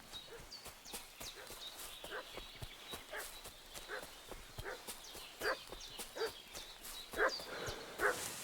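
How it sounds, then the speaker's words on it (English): A dog in the Kingdom Come Deliverance II game barks repeatedly in quick bursts at moderate distance, mixed with steady horse hoof clip-clops throughout. "What's that dog making such a fuss about?"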